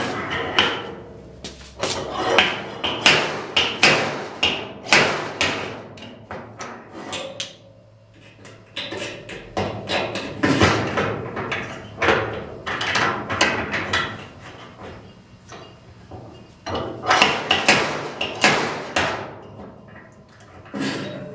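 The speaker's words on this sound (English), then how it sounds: "Take the T-hammer." A T-hammer striking metal during bodywork on a 1966 Chevy truck, a series of sharp clanking blows in irregular bursts with short pauses between them.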